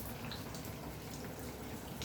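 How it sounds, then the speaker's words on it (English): Steady rain falls outdoors on a Saturday morning, a soft continuous hiss with faint drips and splashes, fairly distant and even throughout, with no voices. "Rain, rain, rain."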